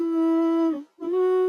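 A sustained sung vocal note carries autotune, reverb and EQ effects. The pitch is glassy and locked, with rich harmonics. It breaks briefly into a short gap, then resumes on a slightly higher held note, loud and alone.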